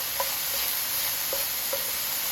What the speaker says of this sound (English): Now the first thing we're going to put in are some peas, and we're just going to cook those.